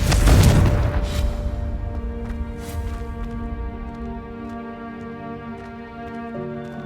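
A Confringo fire spell detonating in Hogwarts Legacy, a loud booming blast at the start that rings out into a long, humming, shimmering magical tail, with no voices.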